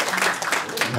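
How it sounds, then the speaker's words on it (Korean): A crowd claps steadily in a dense wash of applause at an award ceremony for a disaster-prevention volunteer group, with a voice speaking over it. "사실 박수 한번 주세요."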